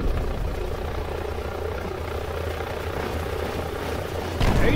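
Helicopter in VRChat, a close, steady rotor thrum and engine drone holding level throughout, swelling a little louder right at the end.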